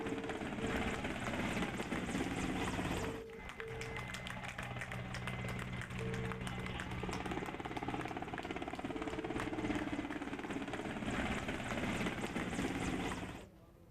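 An air force helicopter roars steadily overhead above a hospital, showering flowers, its rotor thumping and engine droning loudly throughout, dipping briefly before building back up.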